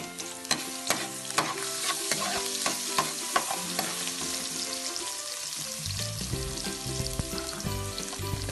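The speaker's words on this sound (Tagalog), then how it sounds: "Pag mainit na yung ating mantika, pwede na natin ilagay yung ating bawang" Garlic and ginger hit hot cooking oil for arroz caldo and sizzle loudly and steadily up close, with repeated sharp scrapes and knocks of a stirring utensil against the pan.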